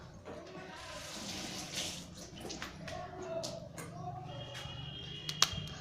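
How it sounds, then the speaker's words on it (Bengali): Water splashing and running from a tap as a face is washed at a sink, a steady close wash with scattered splashes and drips, no talking. "মুখটা ধুয়ে নেবো"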